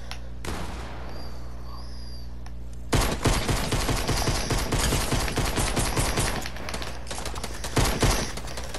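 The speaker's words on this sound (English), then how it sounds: "They're shooting." Rapid gunfire in the Fortnite video game, a dense close burst of shots that starts abruptly after a few quieter seconds and then rattles on loudly and continuously.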